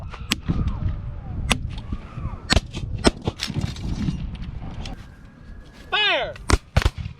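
Sharp musket shots crack out in a ragged sequence at a Civil War reenactment held under a tornado watch, with single loud reports spread across the span and commands shouted between them.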